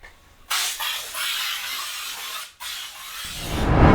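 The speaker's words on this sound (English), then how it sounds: "The last thing I'm gonna do is add some mist or haze." A haze or mist sprayer hisses in short bursts in a cramped bathroom film set, starting sharply, breaking off briefly, then resuming louder and rougher as a mechanism clatters near the end.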